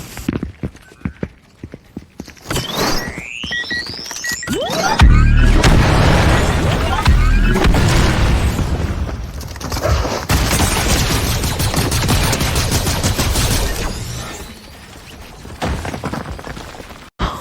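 Shotgun blasts and rapid gunfire from a Fortnite battle crackle in dense, loud bursts, first a few sharp shots, then a sustained clatter of firing lasting several seconds before tapering off.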